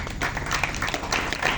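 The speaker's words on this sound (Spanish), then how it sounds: "den un aplauso al Señor" A church congregation breaks into steady, dense applause, the clapping sustained and close, with a few voices faintly mixed underneath.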